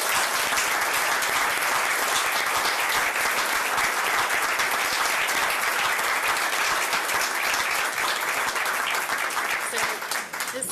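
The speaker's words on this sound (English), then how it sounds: "I would like to ask Dahlia's family and Eric's family to stand so that we can give you a round of applause" Sustained audience applause at a swearing-in ceremony, many people clapping loudly and evenly for about ten seconds before it begins to thin out right at the close.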